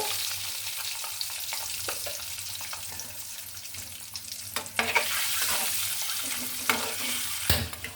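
Eggs added to a pan of hot oil with cardamom, a bay leaf and turmeric, a soft close sizzle with scattered crackles and stirring clatter, quiet and without talk.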